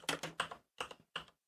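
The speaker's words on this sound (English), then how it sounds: "I'm typing it into the chat." Keys clatter on a computer keyboard in short close bursts of rapid clicks, four clusters separated by brief pauses, with no voices.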